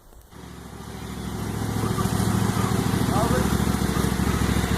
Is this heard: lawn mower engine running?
yes